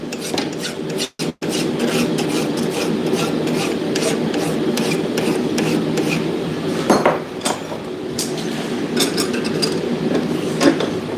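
A rasp scrapes over a hot blacksmith-forged knife blade in steady back-and-forth strokes, a loud, continuous coarse filing sound with occasional faint clinks and a brief pause near the start.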